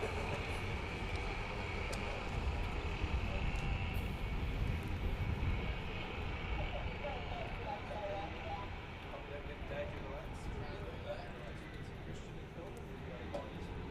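A field of 125 restricted medium racing karts on their formation laps at a Western Australian kart championship heat makes a steady, distant, buzzing engine drone that fades slightly, with a commentator talking over it.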